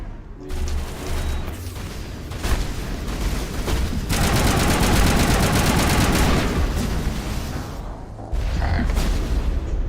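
Rapid bursts of assault rifle fire in Mass Effect, loud and close, with long sustained automatic strings broken by short pauses and heavy booming impacts mixed in.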